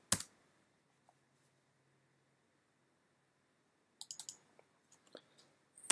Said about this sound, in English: let me just quickly type in all these values